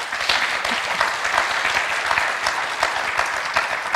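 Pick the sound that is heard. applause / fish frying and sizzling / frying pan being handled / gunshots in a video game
applause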